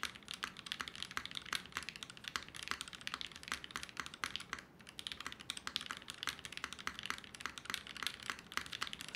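A steady run of close-miked typing on a Mode Sixtyfive keyboard with a brass plate and plate foam, each key giving a sharp, bright click, with no voices.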